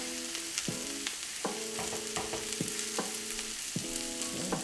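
Cabbage and onions sauté in a pan with a constant bright sizzle, overlaid by several tonal metallic rings and scrapes as the pan is handled, close and steady with no voices.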